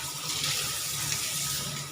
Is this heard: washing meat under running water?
yes